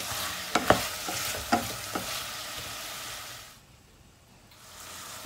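Curry being stirred in a cooking pot, a spoon scraping and knocking the bottom several times over a soft steady sizzle, which drops away near the end before returning faintly.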